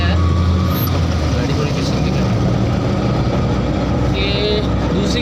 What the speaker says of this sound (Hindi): दूसरी गाड़ी की बैटरी लगा के हमने गाड़ी स्टार्ट की है